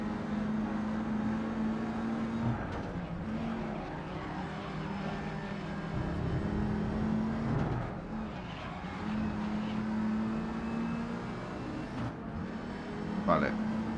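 Race car engines in the GRID Legends racing game drone and rev steadily through the whole stretch, with a brief rise near the end, while someone talks over them.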